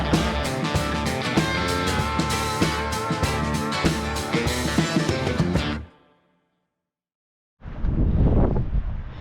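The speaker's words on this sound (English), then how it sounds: "the wind is starting. I'm sure you can hear that. It's probably 20 mile an hour winds right now." Wind buffets a microphone outdoors in a gusty blow of about 20 mph: a short burst of rushing, broadband noise comes in loud near the end, after loud music and a moment of silence.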